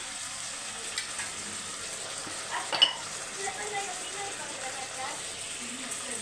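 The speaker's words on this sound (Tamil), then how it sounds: "கத்திரிக்காவை சேர்த்துட்டு மிக்ஸ் பண்ணி விட்டுக்கோங்க" Brinjal pieces stirred and mixed in a hot pan, giving a soft sizzle with occasional light scrapes and a clink of the ladle, faint and close, with a voice talking over parts of it.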